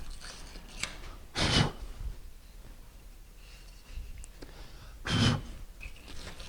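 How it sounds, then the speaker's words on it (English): A wire brush scrubs sediment from the threads of a water heater drain valve port, two short rough scratching strokes a few seconds apart, close and fairly quiet. "take just a bit of a wire brush, something like this, so you can kind of clean that sediment out of those threads there"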